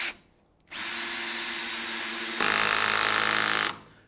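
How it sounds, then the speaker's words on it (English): A Ryobi cordless drill driver on clutch setting 4 drives a screw, and its clutch engages with a steady, harsh ratcheting whir that grows louder partway through before stopping. "Now what that is that's the clutch engaging inside the motor."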